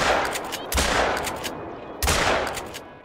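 Two loud, sharp gunshots about a second and a half apart ring out while hunting a pheasant in the game theHunter: Call of the Wild, each blast decaying into a long echoing tail.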